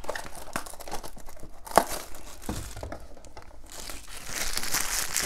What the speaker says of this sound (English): And then we can just do this little rip here.